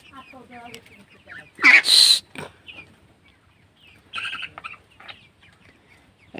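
Tiger chickens cluck and squawk on a Bangladeshi poultry farm, with two loud close bursts of calling amid softer scattered clucks; a voice speaks faintly in the background.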